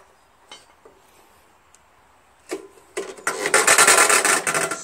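A Tecumseh 6HP engine on a Jacobsen Imperial 26 dual-stage snow blower being pull-started: a few faint clicks, then a loud, rasping recoil pull that surges for about two seconds near the end.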